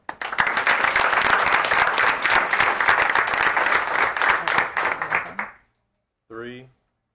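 Audience applause at a Board of Education meeting fills most of the moment, a dense, loud wash of clapping that stops abruptly, followed by a short spoken voice.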